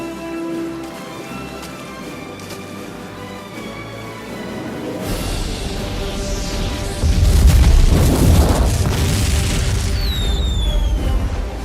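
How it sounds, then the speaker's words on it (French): A ship explodes in a video game: a loud, rumbling explosion bursts out midway and swells into a heavy, crackling roar that lingers, with hissing debris and a whistling tone near the end. "l'explosion du bateau à la toute fin"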